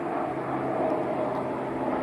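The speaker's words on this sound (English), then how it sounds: "the loud planes going overhead" Loud planes fly overhead near a cemetery by a creek, a steady broadband roar with a faint tonal drone holding evenly throughout the short stretch.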